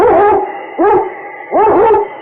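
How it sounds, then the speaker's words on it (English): A husky lead dog in an old radio drama gives three loud, drawn-out barking howls in a row, each rising and falling, with short gaps between them and no voices. "It's Yukon King, swiftest and strongest lead dog of the Northwest"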